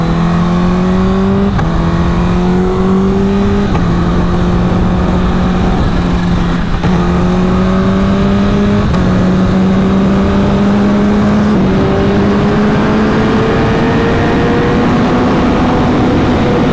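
Kawasaki H2 motorcycle riding along a mountain road, its engine droning loud and steady with pitch rising through several gear changes, each followed by a slight drop before climbing again.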